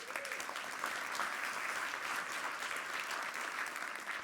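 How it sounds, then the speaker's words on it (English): A large audience at a CEO keynote claps steadily, a continuous wash of applause that holds evenly for several seconds. "A big round of applause for that."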